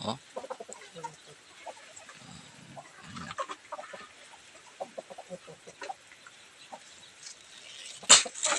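Parawakan chickens on a farm cluck in scattered, soft bursts at close range, with a sudden loud squawk near the end.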